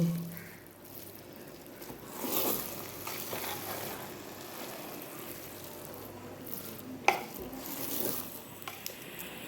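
Eggs stirred into pulao in a pan, a soft, fairly quiet sizzle with moist squishing stir strokes and one sharp clink of the utensil against the pan.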